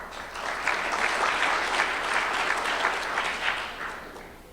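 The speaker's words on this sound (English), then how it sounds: "Why don't we save our applause till we know who the winner is?" A crowd applauds steadily, sustained clapping from a large audience for a few seconds without pause.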